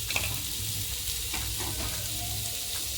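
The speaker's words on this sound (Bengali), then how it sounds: "আদা রসুন পেঁয়াজ আর লঙ্কাটা হালকা হালকা ভেজে নিয়েছি" Chopped ginger, garlic, onion and green chilies fry in a pan with a steady close sizzle, broken by a few scraping stirs, with no voices.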